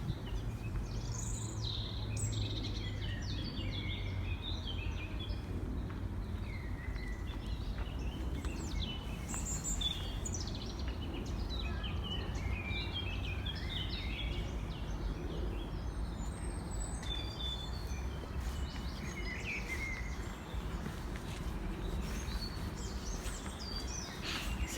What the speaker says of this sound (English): I hope you can actually hear the birds as well. They're quite active this morning.